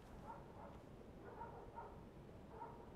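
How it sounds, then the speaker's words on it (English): Dogs barking in the background of One Piece: World Seeker, several faint, distant woofs spaced irregularly over a low murmur. "as you guys can hear in the background, there's some dogs barking"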